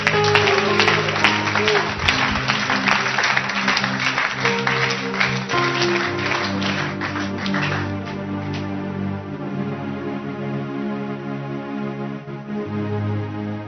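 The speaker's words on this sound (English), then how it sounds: "If you think you learned something, clap for Jesus." Church congregation clapping, busy and energetic at first, then thinning out over several seconds as sustained music and some voices carry on underneath.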